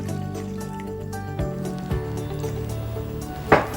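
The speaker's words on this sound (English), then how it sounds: "Next, I'm gonna take 2 cups of water, pour that right in here." Water poured into a blender jar for a homemade chicharrón recipe, a close, steady liquid fill with a few splashy drips and a brief gurgle near the end.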